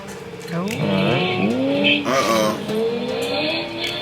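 Cars race with engines revving and tires squealing as a Mustang spins out, loud and close, with pitch sweeps rising and falling throughout.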